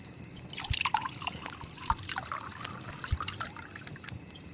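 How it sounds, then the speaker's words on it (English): Wine is poured into a glass in a medieval-themed setting, a soft close trickle with a few faint clinks and drips, quiet and alone without speech. "I'll pour you a glass, and I think I'll pour myself a glass"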